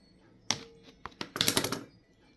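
A slimy tail is cut off a processed loofah, giving a few sharp, crisp snips and crunches, then a quick cluster of dry cutting clicks close to the microphone, with no talking.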